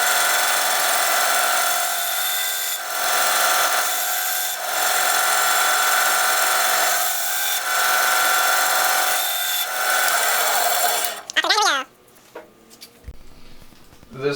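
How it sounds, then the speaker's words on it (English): A 4x36 belt sander with a 60 grit belt roughing the shape of a small wooden knife handle, with a steady close abrasive whir that dips briefly as pressure shifts and then stops abruptly. "4x36 belt sander is what I use to rough in the shape of the handle. It's a 60 grit belt."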